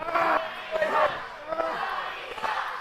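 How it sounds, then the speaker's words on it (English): A wrestling crowd chants a rhythmic, repeated phrase at a title tournament final, the loud massed voices rising and falling in a steady cadence. "the crowd's chanting, Tony sucks"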